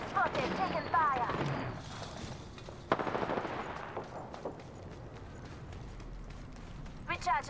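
Gunfire in a battle royale shooter, with scattered sharp bursts and rapid shots at moderate distance mixed into game sounds, while a player talks over it.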